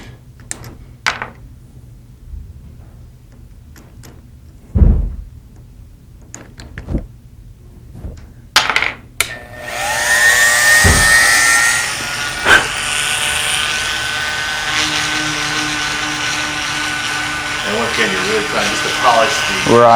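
A rotary tool with a fine polishing point whines steadily while polishing the throat of a gun barrel, starting after scattered clicks and knocks and running loud and continuous for the second half.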